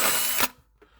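A power drill with a step bit whines loudly through metal for about half a second while drilling a hole for a '67 Mustang sway bar install, then cuts off, leaving a faint tap.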